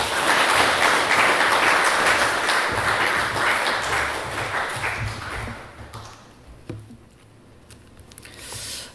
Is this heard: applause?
yes